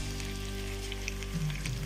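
Potatoes fry in hot oil on a stove, giving a steady close sizzle and crackle with no talk over it.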